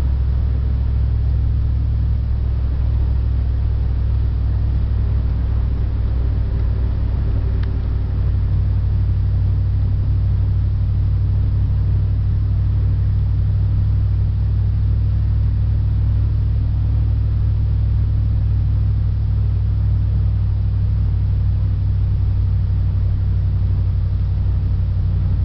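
A car cruising steadily at just over the speed limit, with a continuous low engine and road rumble and a smooth, even drone throughout, no voices.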